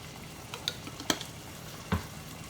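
Tomato sauce being stirred into beans in a pot for Puerto Rican habichuelas, with a few soft scraping and clinking stirs against a faint low sizzle, the loudest knocks near the middle and end.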